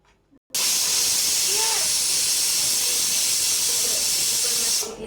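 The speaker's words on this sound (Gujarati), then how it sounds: "કુકર બંધ થયા બાદ 4 સીટી થવા દેવાની." A pressure cooker whistle blasting steam while khichdi cooks: after a quiet moment, a sudden loud, sustained hiss and shriek that runs steadily for several seconds before easing off.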